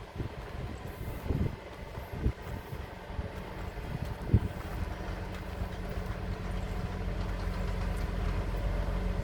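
Hitachi 2210 6G excavator working on a pipe-laying site, with a low, steady diesel engine rumble and some scattered clunks near the start, heard from nearby with wind noise over the microphone.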